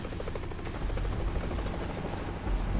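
Helicopter in the video game Metal Gear Solid V: The Phantom Pain, a steady loud rotor chop with a thumping low-end rhythm that holds at a constant level throughout, with no talking over it.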